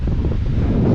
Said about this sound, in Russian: ветер гонит такой, знаете, как бы жаркий-жаркий, то есть жару гонит